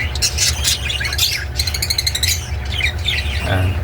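Pet parakeets chirping and squawking in a flight cage, a lively close flurry of overlapping calls in quick bursts.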